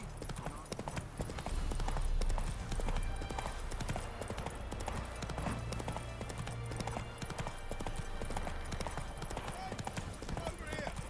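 Horse hooves clip-clop steadily through a medieval scene in The Witcher 3: Wild Hunt, an even trotting rhythm over a constant low game ambience and music bed, with faint voices at times.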